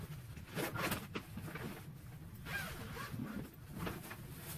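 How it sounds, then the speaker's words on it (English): Fabric and zipper rustling as the zippered storage bag of a 96 x 48 x 80 inch grow tent is opened, soft scraping pulls and crinkles spread across several seconds, fairly quiet and close, with no talk. "So I'm gonna open up the bag."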